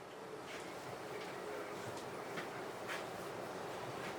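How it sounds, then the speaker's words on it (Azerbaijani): Train rolling along rails, a steady broadband rumble from inside the carriage with faint periodic clicks of the wheels, continuous and even throughout. "Qatarın ritmi adamı uzaqlara aparır."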